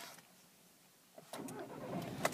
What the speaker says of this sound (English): if we just start up the vehicle